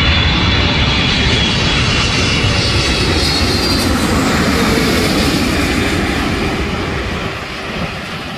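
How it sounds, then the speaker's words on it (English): An Air New Zealand heavy jet airliner from Auckland roars past loud and close at LAX, a broad sustained engine rumble and whine that fades slightly toward the end. "Air New Zealand 6 heavy from Auckland."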